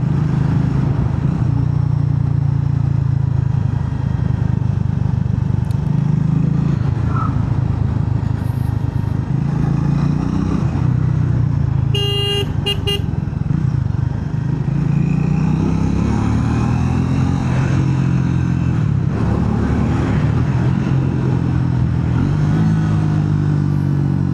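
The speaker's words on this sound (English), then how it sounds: "with engine braking you can control this bike very well." A Triumph Speed 400 motorcycle engine runs loud and close throughout, its revs rising and falling as the rider shifts through the gears and slows with engine braking, with some mechanical clatter.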